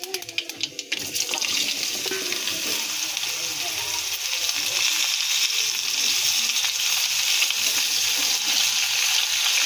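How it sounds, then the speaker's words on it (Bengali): Potato and ridge gourd fry in oil with panch phoron, a dense steady sizzle that stays loud throughout after a few brief clatters at the start. "5 ফোঁটন দিয়ে দেব, দিয়ে আলু আর ঝিঙেটা দিয়ে দেবো, দিয়ে ভালো করে কষিয়ে নেব"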